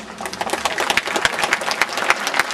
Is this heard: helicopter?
no